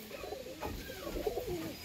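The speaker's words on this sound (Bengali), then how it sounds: "দেখুন পায়রাগুলো দেখুন" A pair of golden pigeons coos softly, a brief low rolling call heard close by with no voices.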